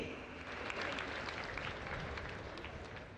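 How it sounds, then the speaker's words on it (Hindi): Audience applause for the Prime Minister at a Birsa Munda 150th birth anniversary event in Narmada, a steady wash of many hands clapping with crowd noise, fairly distant and continuous throughout. "आइए तालियों के साथ आभार व्यक्त करें माननीय प्रधानमंत्री जी का इस विशेष भेंट के लिए"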